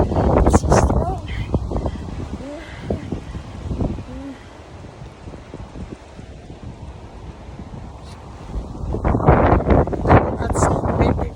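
Strong gusty wind buffets the microphone outdoors on a windy afternoon, with loud roaring bursts at the start and end and a quieter stretch between, while people talk throughout.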